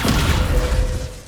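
A Descendo spell slams down in Hogwarts Legacy combat, a single loud, deep thud with a short rumbling tail.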